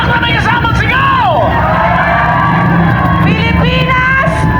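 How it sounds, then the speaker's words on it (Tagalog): A large crowd at a PDP Laban proclamation rally in the Philippines cheers and shouts loudly, with whoops and dense babble rising and falling; a voice carries through the noise, and the whole scene sounds near and very loud. "Pumalakpak na may kasamang sigaw!"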